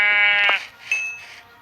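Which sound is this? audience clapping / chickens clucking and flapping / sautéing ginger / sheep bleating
sheep bleating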